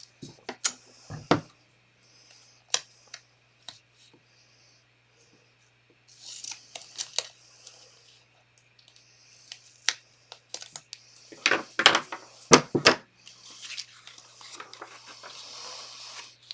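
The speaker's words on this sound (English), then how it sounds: "So let's put the tape on there again." Tape torn and pressed back onto a gift box, sharp scattered crackles and rips with soft rustling between them, close by, with a quiet steady hum underneath.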